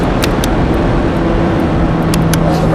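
A Ferrari F430 on the Thruxton race track, its engine droning loud and steady from inside the car under acceleration, a constant close cabin roar with faint ticks.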